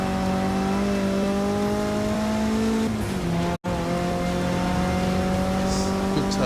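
Race car engine in the video game Forza 6, a loud, steady, harmonic drone that drops in pitch as the car brakes hard for a corner, then holds on with a short break partway through.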